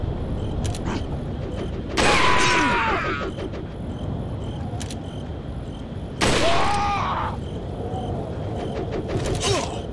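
Gunfire in Resident Evil 4 played on Nintendo Switch: two loud bursts of shots with ringing tails about four seconds apart, set over a constant hum of game ambience and small mechanical clicks.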